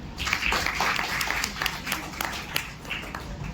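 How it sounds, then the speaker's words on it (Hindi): Audience clapping for the winners at a World Environment Day event at a science centre, a loose patter of hands with scattered sharper claps and some voices mixed in. "विनर्स के लिए तालियां बजाइए।"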